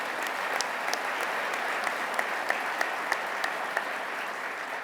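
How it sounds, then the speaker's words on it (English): An audience at a regional economic development awards ceremony applauds a lieutenant governor, a continuous even wash of clapping with a few sharper individual claps standing out, moderately distant. "Give her a round of applause."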